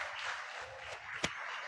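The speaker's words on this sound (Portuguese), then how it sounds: "dê uma salva de palmas ao Senhor" Faint, sustained applause from a church congregation during a sermon, a diffuse wash of clapping with one sharper clap standing out near the end, no speech over it.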